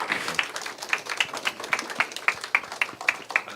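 An audience at a church children's and youth history lecture claps to welcome a guest lecturer, a steady, evenly paced rhythmic clapping at moderate volume with no talking over it.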